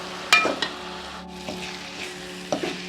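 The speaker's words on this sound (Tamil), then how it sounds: "நல்லா எண்ணெயிலே வதங்கிட்டு அப்புறம் எல்லாம் சேர்த்துக்கலாம்." Banana flower sautés in oil for a pickle, a continuous low sizzle broken by a few sharp clinks of a stirring spoon against the pan.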